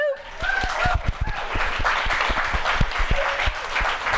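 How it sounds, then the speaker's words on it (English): Studio audience applause on a morning talk show, a steady wash of clapping with faint chuckles and cheers mixed in, moderately loud and continuous throughout. "The applause sign just went on."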